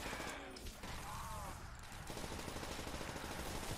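An MP40 submachine gun fires in rapid automatic bursts during a Call of Duty custom zombies co-op match, a fast steady rattle filling the scene with game noise, and voices speak briefly early on.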